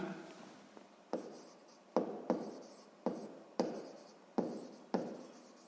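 A pen scratches numbers onto paper during a sixth-grade math exercise, a close run of about seven quick, regular strokes, each a short scratch that fades, with no voices.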